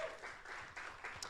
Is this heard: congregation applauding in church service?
yes